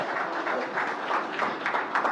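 Audience applause at the NDTV Indian of the Year 2025 award ceremony, a steady wash of many hands clapping that swells in waves over the whole stretch, with no voices over it.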